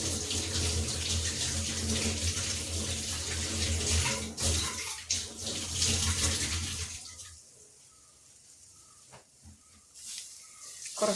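Water pours steadily in a loud, full splashing stream for about seven seconds, then stops, leaving a few faint drips and clinks.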